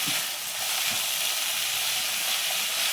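Sliced onions and curry leaves sauté in a pan over a raised flame for spicy pepper chicken, producing a loud, unbroken hissing sizzle close up and no speech.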